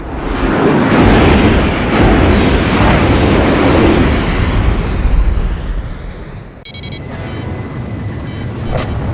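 Heavy, roaring missile explosions in the PS2 air combat game Ace Combat Zero, a loud rumbling blast that swells and rolls for several seconds before cutting to a thinner, ringing aftermath.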